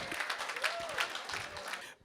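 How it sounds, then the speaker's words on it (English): Guests at a charity dinner give a brief, dense burst of clapping that fills the room for about two seconds and then cuts off abruptly. "Give Kenya a hand of applause."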